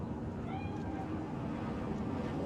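A faint cat meow from a Bakeneko cat spirit in Cyberpunk 2077, a short wavering cry over a steady low ambient hum.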